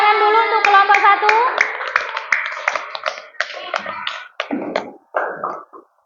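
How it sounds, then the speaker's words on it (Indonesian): Classroom applause from students for a student group, a burst of quick overlapping hand claps and taps with children's voices mixed in, thinning out into a few scattered claps toward the end. "Tepuk tangan dulu untuk kelompok 1."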